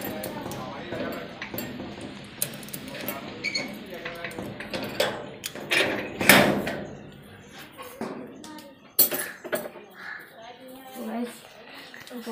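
A padlock is unlocked and a pigeon coop door is opened, making close metallic clinks, taps and rattles scattered through the stretch, with a louder clunk near the middle and another late on.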